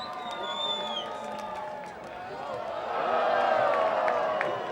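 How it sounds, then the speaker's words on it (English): A crowd cheers and whoops at a Sacramento Gold versus Napa Valley 1839 FC soccer match, in support of the green bubble ball team, with a broad roar that swells louder toward the end. "Let's give a big cheer if you're going for the green bubble ball team."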